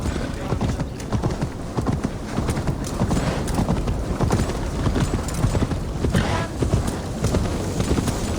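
A horse gallops in Assassin's Creed Valhalla with quick, rhythmic hoofbeats that drive on steadily throughout. Faint in-game voices and ambient action sit underneath.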